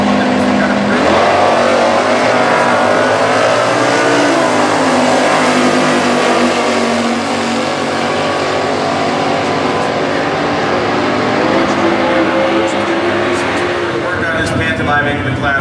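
A drag racing car powered by a 350 cubic inch LT1 V8 roars loudly and steadily at a US Nationals Stock Eliminator event, its engine note shifting as it runs, with an announcer talking over it throughout.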